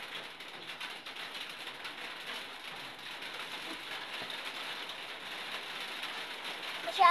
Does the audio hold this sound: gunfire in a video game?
no